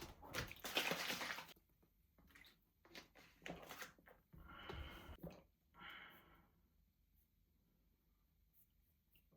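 Water splashed by hand onto a face after a shower, heard as a few brief close wet splashes with short quiet gaps between them, quiet overall.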